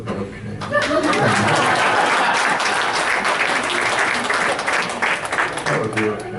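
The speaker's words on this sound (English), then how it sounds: "I think you can clap. That would be okay." An audience at a morning talk breaks into sustained applause, steady clapping mixed with a few laughs and murmurs, filling the room for several seconds.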